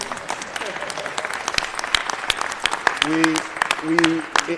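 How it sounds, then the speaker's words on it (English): Applause for a council member in a Los Angeles city council chamber: scattered, moderately loud clapping with a few voices calling out over it midway. "So a big round of applause for him."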